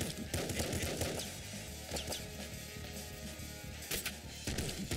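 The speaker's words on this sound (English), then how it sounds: "Okay, a machine gun." Rapid machine-gun fire in the top-down shooter game Nuclear Throne, a dense, continuous rattle of shots over busy game effects and music, fairly quiet overall.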